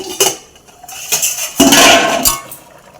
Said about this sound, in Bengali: এখন ঢাকনাটা খুলে দিচ্ছি